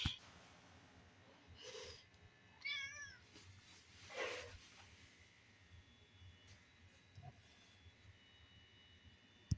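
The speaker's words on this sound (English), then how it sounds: "my cat's getting up on top of all this stuff" A house cat climbing onto a cluttered kitchen counter gives a couple of soft, drawn-out meows amid quiet room noise, fairly faint and intermittent.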